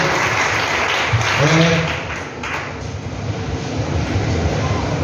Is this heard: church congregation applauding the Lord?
yes